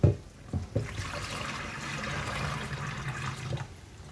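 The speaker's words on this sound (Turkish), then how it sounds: "İçme suyu koyuyorum, döküyorum." Drinking water pours into a cooking pot for a home-cooked meal, a steady close splashing and gurgling stream lasting several seconds after a couple of knocks at the start, with no talking.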